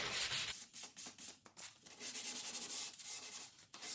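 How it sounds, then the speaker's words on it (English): Timber door moulding hand sanded with abrasive paper, close, brisk back-and-forth rasping strokes in a quick irregular rhythm, each stroke a short gritty hiss. "you just want to sand everything that's being sprayed"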